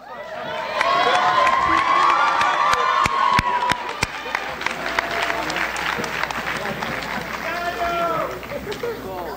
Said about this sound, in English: Please give another round of applause for this fantastic group of graduates.